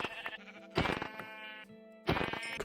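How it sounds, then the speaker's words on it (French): Sheep in the video game Minecraft bleat in three short, quavering cries spaced about a second apart, moderately close and clear with no talking over them. "des moutons"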